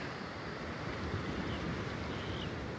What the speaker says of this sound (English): I love the sound of the waves behind me.